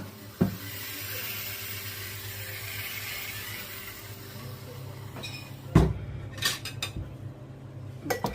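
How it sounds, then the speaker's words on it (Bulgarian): Metal lids are twisted onto glass jars of home-canned fish, making a few sharp, close clinks and scrapes scattered over a quiet kitchen background. "Завъртам капачките на бурканите"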